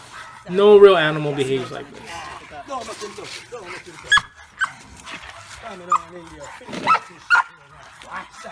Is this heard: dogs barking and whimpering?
yes